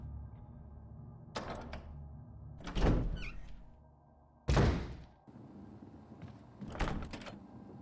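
Door in Resident Evil on PS4 opening with heavy wooden thunks and creaks, several separate loud knocks and scrapes close by, against quiet ambient hum, no talking.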